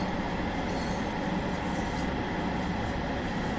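A train slowing under braking in the Train Sim World 2 simulator on the Penzance to Truro West Cornwall local line, a loud continuous rumble of wheels on rail with sustained squealing, steady throughout with no talk.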